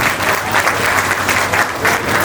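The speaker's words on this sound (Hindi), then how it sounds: "आप सब लोग इनका एक बार जोरदार ताली से" Loud, dense applause from a crowd at a creators' gathering in Kichha, Uttarakhand, many hands clapping steadily and close for the whole stretch, with no speech over it.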